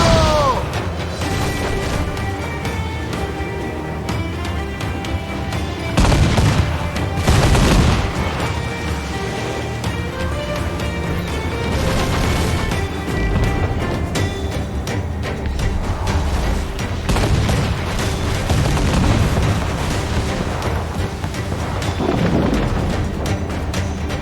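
Enemy cannon fire and impacts thunder in the pirate naval battle of Assassin's Creed: Black Flag, heavy booms and crashes over a constant dense battle roar, loud and close, with voices shouting amid the din.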